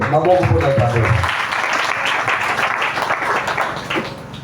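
A church congregation breaks into steady applause right after a brief spoken phrase. The clapping is a dense, even wash of hands that holds for several seconds.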